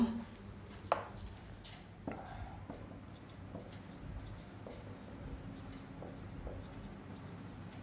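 A pen writes a class 12 maths solution on paper, with quiet scratching strokes and a few sharper taps spread across a soft, low background.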